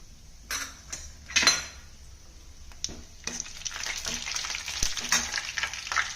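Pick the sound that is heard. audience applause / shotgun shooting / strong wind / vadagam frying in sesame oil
vadagam frying in sesame oil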